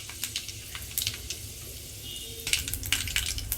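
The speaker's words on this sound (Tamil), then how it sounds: "வெந்தயம் நல்லா பொன் நிறமாக வரணும் கடுகு கொஞ்சம் போட்டுக்கணும்" Fenugreek and mustard seeds fry in hot oil for a fish curry, making a close crackling sizzle with scattered sharp pops that grow busier toward the end.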